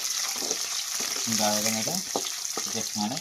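Onions and green chilies sizzle steadily in a hot pan for semiya upma, a bright continuous crackle with stirring, while a voice briefly speaks over it partway through.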